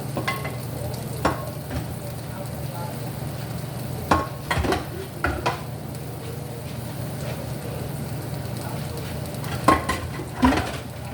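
Shrimp sizzling in a pan with a soft continuous fry beneath a low hum, punctuated by several sharp utensil clinks and scrapes against cookware.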